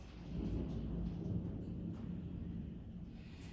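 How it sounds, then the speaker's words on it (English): A low, distant rumble of thunder rolls beneath a soft, steady hiss of rain, muffled as if heard from indoors. "Maybe you can hear the rain outside my window,"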